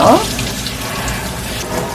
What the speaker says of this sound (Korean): 혹시 모르는 이물질이 있을 수 있으니 살짝 흐른 물에 씻어줄게요